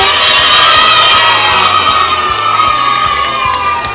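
Kindergarten children at a school cheer and clap together, high excited shouts and squeals layered over rapid clapping, loud and close, with a rhythmic low thumping underneath.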